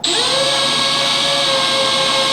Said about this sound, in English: the key is to go ahead and drill nice and slow and easy